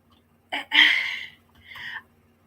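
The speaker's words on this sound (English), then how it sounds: "I'm burping." Two close, loud burps from a person, a short one followed by a longer drawn-out belch, then a softer third burp after a brief pause, heard alone.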